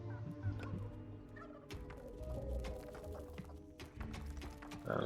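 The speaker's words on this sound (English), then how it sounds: "Little chickens." Little chickens in the dungeon-building game Dungeons 3 cluck and gobble in a busy fowl chorus, with a soft clip-clop beneath and game music running under it.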